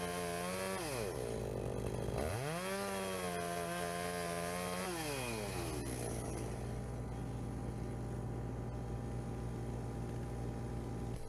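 Chainsaw cutting into the holding wood of a felled tree, the engine revving up and down in long whining swells, then settling into a steady buzzing cut outdoors.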